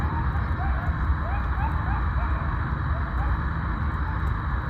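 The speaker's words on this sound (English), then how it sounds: "There is like a giant pack of coyotes howling over there." A large pack of coyotes howls and yips far off at a campsite, faint rising and falling wails repeated over a loud steady background of noise and hum.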